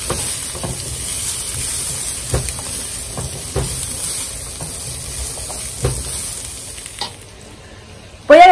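Broccoli and onion stir-frying in a wok with chicken fried rice: a steady close sizzle with repeated scraping stir strokes, ending in a sudden louder burst.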